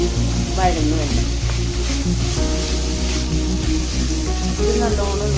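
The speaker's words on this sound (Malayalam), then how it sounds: "പിന്നെ അതിലോട്ട് നമുക്ക് വെളുത്തുള്ളി ഇഞ്ചി പേസ്റ്റ് ഇട്ട് കൊടുക്കാം. ഇത് നല്ലോണം വഴന്നു വേണം." Garlic ginger paste fries in a pan for beef curry with a steady, close sizzling hiss that runs throughout, while a voice talks over it.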